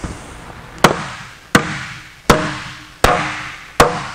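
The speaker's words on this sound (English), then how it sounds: "whether it's English wheeled or hammered out like this" Hammer blows on an aluminum bonnet panel for a Jaguar E-Type, five sharp metallic strikes spaced evenly about three-quarters of a second apart, each ringing briefly before the next, close and loud with no talk.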